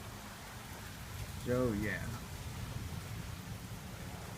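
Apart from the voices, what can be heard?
rain falling during a thunderstorm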